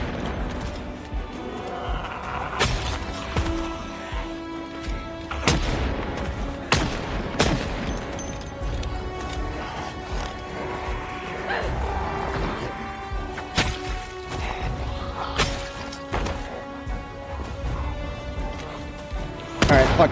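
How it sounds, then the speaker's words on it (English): Gunfire in the zombie survival video game Project Zomboid, a series of sharp shots spaced irregularly, some loud and close, over a background of game ambience with light talk. "now that we're out here shooting"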